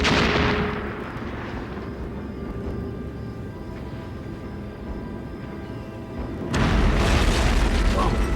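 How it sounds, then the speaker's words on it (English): Wartime bombing over occupied Holland, heard as a continuous low rumble of distant explosions and artillery that swells louder near the end, with no talk. "Continual, persistent, constant bombing."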